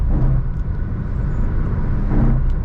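A Hyundai Creta N-Line with the 1.5 turbo GDI petrol engine and manual gearbox accelerates on a highway, giving a steady close low engine and road rumble inside the cabin, with no talk.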